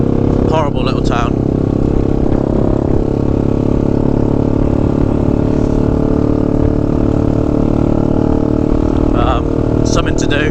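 Steady, loud drone of a Honda Grom small motorbike engine running throughout, with voices talking over it at times.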